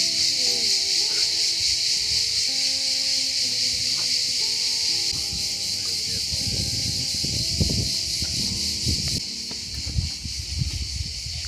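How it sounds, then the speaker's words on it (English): Crickets chirp in a dense, continuous high-pitched drone in the Tuscan hill village of San Miniato, with faint footsteps and low rustling noise beneath. "So many crickets"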